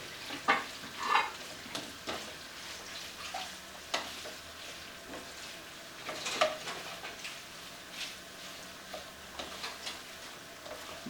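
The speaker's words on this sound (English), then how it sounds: "I'm letting this cream cheese start to melt down" Cream cheese softening in a pan for a quick snack dip, giving a soft low sizzle broken by scattered scrapes and clicks of a utensil stirring, fairly close and without talk.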